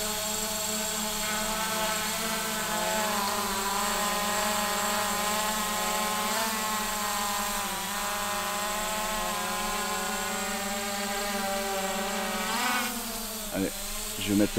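A Hubsan H501s Pro GPS drone hovers nearby with a steady, loud whining buzz of its rotors, holding an even pitch throughout, with a brief wavering at the end.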